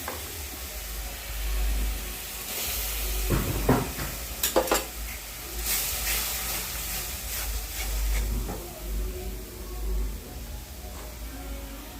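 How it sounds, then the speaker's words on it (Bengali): Tomato puree stirred in a frying pan, with a low sizzle, intermittent scraping and clinks of a utensil against the pan, and a short burst of louder rattling midway, all close and moderately quiet. "টমেটোটা দিয়ে ভালো করে নেড়ে"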